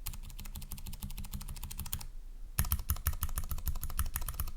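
Fast, steady typing on a slim Keychron K3 V2 low-profile keyboard, a close run of crisp clacks that breaks off for half a second, then resumes just as rapidly and a bit louder, with no voices.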